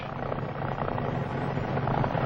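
A propeller aircraft engine drones loud and steady during a run-up in start-up checks, a dense, unbroken roar with a throbbing low pulse and no voices.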